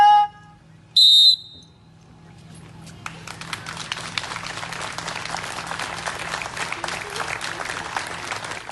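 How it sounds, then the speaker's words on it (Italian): Young swimmers from a swimming club give a long round of applause at an outdoor memorial where colourful balloons are released. A few brief electronic tones come first, then dense, sustained clapping builds and carries on to the end. "Un lungo applauso e tanti palloncini colorati lasciati salire in cielo in contemporanea dai giovani nuotatori della Piave Nuoto per salutare Manuel Paulon"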